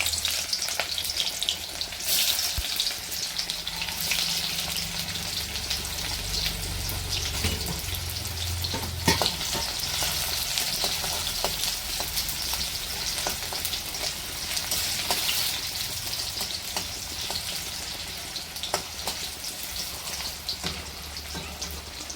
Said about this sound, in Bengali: আমার তেল গরম হয়ে গিয়েছে এখন দিয়ে দেবো কেটে রাখা পেঁয়াজ